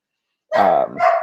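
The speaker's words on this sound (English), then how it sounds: "you might hear a dog in the background" Dog barking in the background of an interview: a short run of two loud, close barks starting halfway through, with no talk during it.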